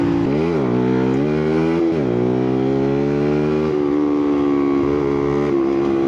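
Motorcycle engine revving up and down repeatedly, loud and close with rising and falling pitch, then holding a steady drone, no talk over it.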